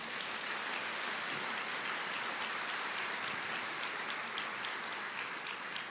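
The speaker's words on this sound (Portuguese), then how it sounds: "Vamos aplaudir ao Senhor" A church congregation applauds in praise, a soft, continuous wash of many clapping hands heard at a distance, even and unbroken throughout.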